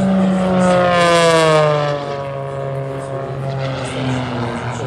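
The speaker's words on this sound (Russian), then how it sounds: "Он хорошо управляет своим самолетом." An Extra EA-300-family Edge 540 V2 race plane at a Red Bull Air Race 2019 practice session, its propeller engine droning loudly and steadily with a sweeping Doppler pitch shift as it passes close by, no talk.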